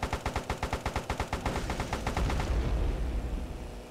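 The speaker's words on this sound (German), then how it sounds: "diese komischen Raketen, die ich da gefunden habe, die hauen ordentlich rein" Rockets firing in the video game Airfix Dogfighter: a rapid, loud string of evenly spaced sharp bursts for about two seconds, then a rumbling roar of impacts and blasts.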